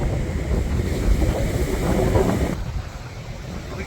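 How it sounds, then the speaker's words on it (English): Steady breezy wind rushing over a man-made beach in Dubai, with a broad roar of air and surf close to the microphone, no talk. "It is breezy over here."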